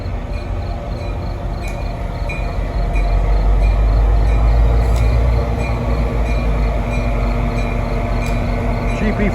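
A Metro North painted GP40 PH2 locomotive, number 4906, rolls past on NJ Transit rails at Ramsey on a hot day: a loud, steady, close rumble of engine and wheels that swells after a few seconds and holds.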